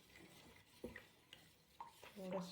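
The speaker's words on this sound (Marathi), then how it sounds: "गूळ वितळवून घेऊया." A spoon scrapes and stirs jaggery melting in a hot kadhai for sanja, soft intermittent scrapes and clinks at low volume with a faint sizzle beneath.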